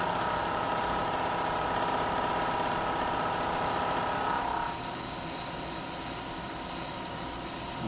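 A machine takes a cut on a dice valve cap, a steady loud mechanical whirr with a cutting tone that stops partway through, leaving a quieter running hum.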